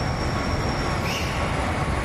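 A KiHa 261 series 5000 diesel train arrives, rumbling steadily nearby with a constant roar of wheels on rails and a thin high squeal riding over it.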